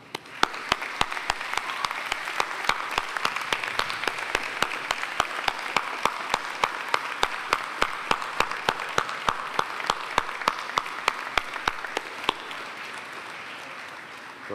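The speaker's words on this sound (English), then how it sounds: "Please join me in giving your loved ones a huge round of applause." A graduation audience applauds families at an art, design and performance ceremony. Dense, sustained clapping fills the space, with sharp regular clicks of camera shutters throughout.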